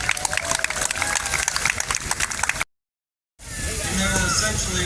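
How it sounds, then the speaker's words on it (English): Crowd applauding a police K-9 named Hootie at a dog demonstration in Rapid City, dense clapping from an outdoor audience that cuts out briefly and resumes. "everyone give Hootie a quick applause here"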